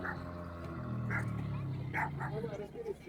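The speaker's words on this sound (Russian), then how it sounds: "Жорка гавкает на этого динозавра." Zhorka the dog barks at a dinosaur figure in a garden, giving a few sharp, mid-distance barks with yips and a whimpering tone. A voice runs underneath.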